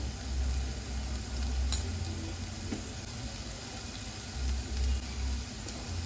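Shrimp frying in oil with turmeric give a soft, steady sizzle with faint stirring and scraping, low and continuous at a moderate distance.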